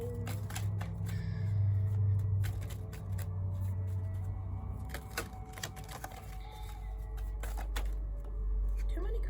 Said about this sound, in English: Let's keep shuffling.